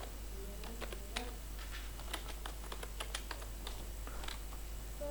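Typing on a computer keyboard while entering text in PowerPoint: quick irregular key taps, close and clear over a constant low electrical hum, with no voices.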